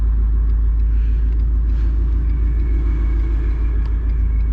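A new car's engine on a 115 mil with E85 fuel and 373 gears, running as the car accelerates: a loud, steady low rumble, close and continuous, with no talk over it.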